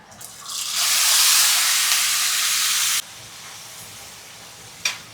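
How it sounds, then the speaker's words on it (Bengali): Marinated meat for biryani tipped into a hot pan, bursting into a loud, bright sizzle that swells for about two seconds and then stops abruptly, leaving a quieter hiss and a single sharp clink near the end. "এবারে মাংসটা আমি ম্যারিনেট করা মাংস আমি ঢেলে দিলাম"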